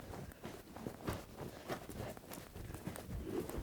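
Hooves of a horse cantering in a riding session, faint and slightly distant, with a regular rolling beat of soft thuds.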